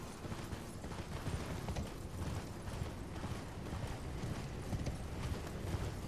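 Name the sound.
horse hooves galloping in Elden Ring video game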